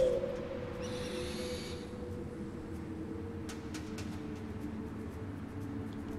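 An owl cries out as it attacks an enemy in Far Cry Primal, a single steady hooting call over low ambient game noise with a brief higher hiss, and no talk.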